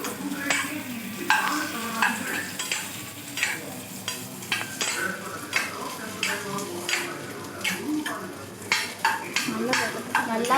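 Potatoes stir-fried in a pan for a tomato rice meal give repeated, fairly close scraping strokes of a spoon against metal over a constant sizzle, in an uneven, regular rhythm.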